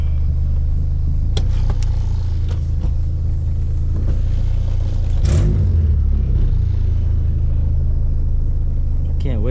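A Honda Civic with a swapped-in B20B engine, starting up and settling into a loud, steady low rumble, heard close from inside the car.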